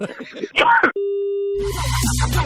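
After brief speech and a click, a steady electronic telephone tone sounds alone after hanging up, followed by a burst of noisy radio audio.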